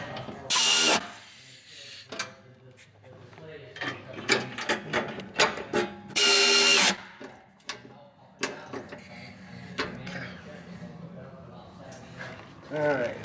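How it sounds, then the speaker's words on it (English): A socket ratchet fitted with a swivel clicks in bursts while tightening running board mounting bolts on a 2019-2021 GMC Sierra or Silverado double cab, close and fairly loud, mixed with clanks and with a person talking between the bursts. "we're going to use a swivel on the ratchet"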